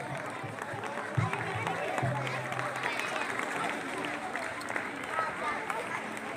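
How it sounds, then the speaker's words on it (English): A school crowd applauds after a speech at a Christmas celebration, making steady, dense clapping that carries on throughout, with some chatter mixed in. "Let's give a massive round of applause for the wonderful speech."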